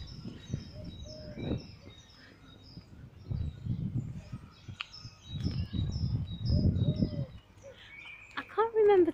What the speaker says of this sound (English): You can hear the birds as I approach the park.